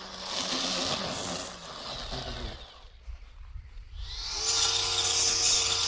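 A brushless-motor lawn mower runs with a quiet buzzing whir, drops nearly silent for a moment, then starts up again with a steady hum.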